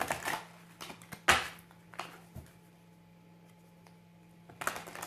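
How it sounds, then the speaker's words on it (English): Quick papery riffles and soft card slaps come in short bursts, with quiet pauses between them, close and fairly faint. "Let's go ahead and shuffle these cards real quick."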